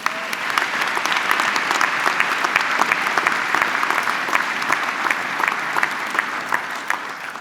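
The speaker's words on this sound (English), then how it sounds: "Applaud yourselves." Sustained applause from a large university graduation audience, dense steady clapping at a constant level for several seconds.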